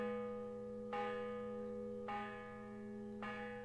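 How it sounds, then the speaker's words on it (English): A bell rings out three times at an even pace, each clear tonal strike ringing on before the next, fairly faint and alone. "Bells."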